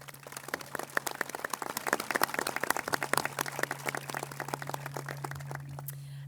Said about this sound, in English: We want to first start off by congratulating our graduating class with a round of applause